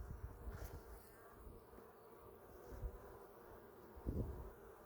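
Honey bees buzzing in an open hive at an animal sanctuary during an inspection, a steady low drone with a few louder swells as bees fly close, no talking.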